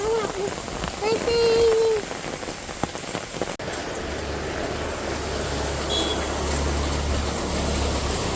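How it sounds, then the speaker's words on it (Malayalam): Rain falling steadily on a surface, a continuous hiss running under a voice and brief chatter early on, then carrying on alone with a low rumble beneath. "എന്താണ് മഴയാണോ?"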